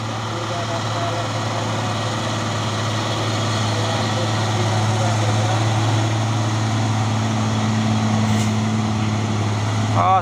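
A trailer truck hauling heavy equipment grinds through slow, dusty traffic on a hill, its engine a loud, steady low drone close by, with a voice talking over it.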